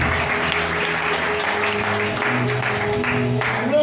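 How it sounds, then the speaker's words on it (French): Church congregation applauding during a French-language worship service, a dense steady wash of many hands clapping continuously throughout, loud and close. "On acclame fort le Seigneur ce matin"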